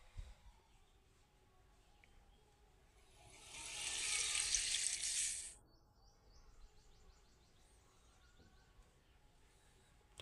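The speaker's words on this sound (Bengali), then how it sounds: "তো এবার জল দিয়ে দেব।" Water pours into a pan of boneless meat and potatoes in a steady hiss lasting about two and a half seconds mid-clip, set within quiet kitchen background with faint chirping.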